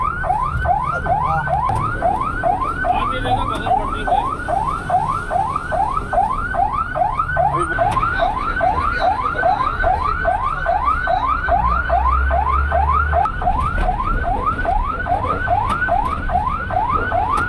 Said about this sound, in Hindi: गुलशन इकबाल की फायर टेंडर रवाना हो रही है